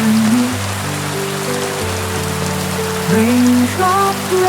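Rain falls on a surface as a dense, continuous patter, mixed under gliding, sustained musical tones and fairly loud throughout.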